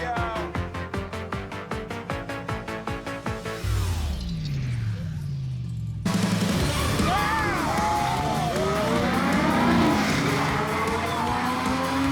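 Porsche race car on a circuit, engines revving through rapid gear changes, then a loud pass-by whoosh and tire squeals with a crowd-like roar, sustained and close.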